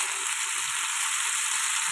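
Cubed potatoes and tomatoes frying in a pan for a palak aloo sabzi: a steady, even hiss of sizzling oil, close and continuous, with no talking over it.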